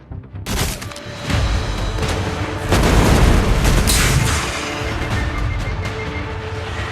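Heavy booming blasts from a Goliath tank firing in the mobile shooter Destiny: Rising, a sharp loud onset followed by rolling, overlapping explosive rumbles that swell and decay across the stretch.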